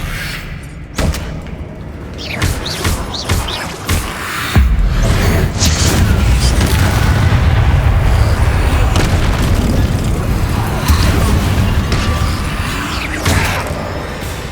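Spell blasts and explosions in the video game Hogwarts Legacy: loud, heavy booms and thuds, then a sustained roaring rumble of continuous blasts, close and powerful, without speech.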